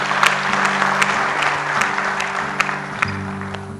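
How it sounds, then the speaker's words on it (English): An audience claps together in steady, dense applause at a college event, close and loud throughout with a few sharper individual claps standing out. "Let us give a round of applause to them."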